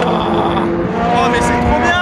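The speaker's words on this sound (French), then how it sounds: "L'Alpine, oh avec la Toyota qui va la dépasser." At the Portimao WEC endurance race, an Alpine and a Toyota race car pass by, a loud engine roar with shifting pitch, and an excited spectator talks over it.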